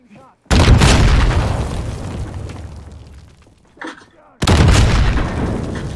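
Loud gunfire and explosive booms in Call of Duty Warzone, with two heavy bursts separated by a fading tail and a brief smaller pop, close and dominant over faint in-game sound.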